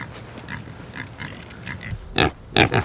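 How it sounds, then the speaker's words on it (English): Pastured pigs grunting and snuffling close by as they eat breakfast, a series of short low grunts that grow louder toward the end. "Hey, pigs. There we go. Nice little pigs. Eating their breakfast."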